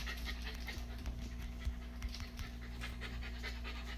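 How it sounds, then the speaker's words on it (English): A dog panting close by, quick rhythmic breaths repeating steadily over a low background hum. "All the panting and stuff, that is Archie."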